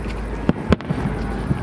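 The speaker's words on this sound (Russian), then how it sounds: "А вон салют третий, Вов." Fireworks salute over Omsk for the city's 300th anniversary: a few distant, muffled booms at irregular intervals over steady outdoor wind rumble.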